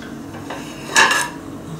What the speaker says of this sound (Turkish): Bulaşık makinesi boşaltmasını hiç sevmiyorum.